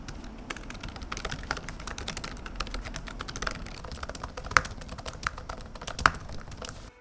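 Steady, fast typing on an LG Gram laptop keyboard, a dense run of light crisp key clicks with a few sharper, louder strikes, close and alone with no voices.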